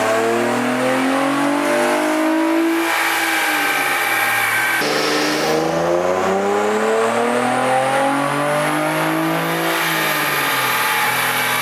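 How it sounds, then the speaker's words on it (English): A shop car engine on a dynamometer revs hard in repeated pulls, pitch climbing steadily then dropping and climbing again, loud and close with no talk. "So I'll do this really quick and make some test pulls"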